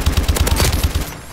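Rapid automatic gunfire from an unidentified weapon in Call of Duty Advanced Warfare multiplayer, a close, loud burst of about ten evenly spaced shots fired in quick succession, then a brief stop.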